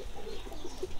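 A pigeon kept for pigeon flying in Pakistan coos softly a few times in quick succession, close by, over a low background rumble.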